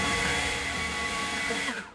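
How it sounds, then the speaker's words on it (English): Leaf blower spreading and drying tire shine on a truck's tires, a steady loud whooshing roar held close for about two seconds before cutting off. "So this is where the leaf blower just kind of evens that out."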